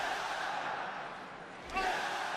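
Wrestling arena crowd at a WWE Crown Jewel event, a distant, steady roar of cheering voices that swells briefly near the end.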